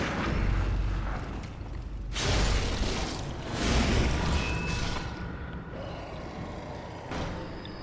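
Gunshots and bursts in the video game Bloodborne, fired at wolfmen to stagger them, arriving as several loud booming blasts with whooshes over a dense, rumbling game soundscape.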